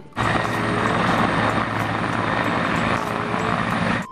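Steady, loud whirring rotor and motor drone of a toy helicopter, continuous and close throughout with a slight dip near the end.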